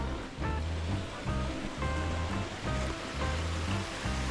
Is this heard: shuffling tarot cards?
no